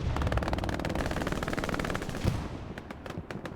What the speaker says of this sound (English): great shooting by Anger there